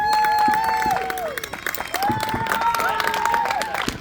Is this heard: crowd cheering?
yes